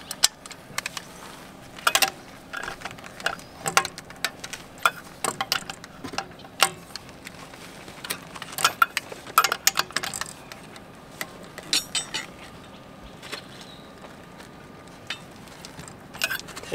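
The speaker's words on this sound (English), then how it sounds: "And this I'm going to use the torque wrench." Torque wrench tightening lug nuts on an Airstream trailer wheel, a run of quiet ratcheting clicks and metallic ticks at close range, irregular and spaced out, with no talking.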